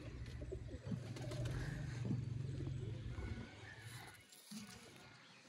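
A Sialkoti pigeon cooing close by, low throaty coos in a repeated rolling rhythm, with faint rustling and a short pause near the end.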